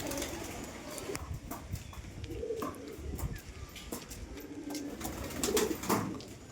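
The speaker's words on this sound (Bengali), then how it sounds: "এখানেও কিছু ফেন্সি আছে ঘরে, এই যে এখানে বালি পায়রা আছে" Bali pigeons coo softly in a loft, low rolling calls repeating at close range over a busy background with scattered knocks and rustling.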